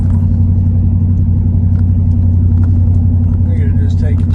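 A pickup truck drives down a road on a pleasant day, its engine holding a loud, steady low rumble with tire and road noise right up close and no breaks.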